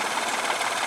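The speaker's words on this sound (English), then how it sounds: "car's idling down. It's probably at 700 RPM right now." Geo car engine idling at about 700 RPM during an alternator test, a steady close-up mechanical hum with even, low vibration and no talk over it.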